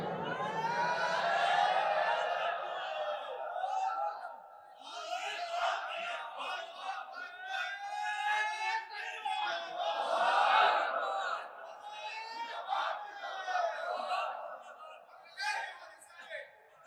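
A crowd of supporters chants slogans in unison to welcome a political leader at a rally, loud rhythmic group shouts rising and falling continuously throughout.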